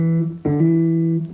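A bass guitar hammer-on, the first finger holding a note and the third finger hammering onto the string, giving a plucked note that smoothly jumps to a higher sustained pitch, loud and alone.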